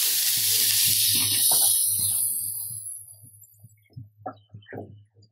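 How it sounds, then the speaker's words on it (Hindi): Grated carrots fry in ghee with a bright, steady sizzle that fades after a few seconds. Soft knocks of stirring follow over a low background hum. "हम इसी घी में अच्छे से भून लेते हैं।"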